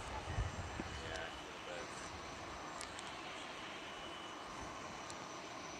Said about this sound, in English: The A321 landing, let me pull that up real quick.